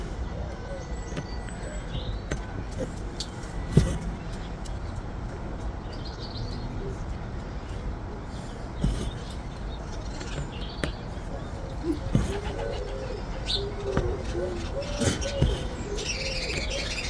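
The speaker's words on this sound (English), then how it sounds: "Got a lot of birds around here because we're out in the country a little bit." Birds chirp and call around a nest in the countryside, with soft cooing among scattered tweets, moderately distant over a steady outdoor background hum.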